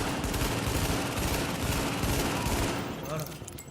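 Incendiary grenades burn in the video game The Division, a loud, dense crackling roar of flame and rapid pops that holds steady and then thins out near the end.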